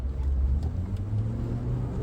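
A GWM Tank 500 on a test drive at the Kyalami track accelerates with a low, steady engine rumble heard from inside the cabin, with no talking.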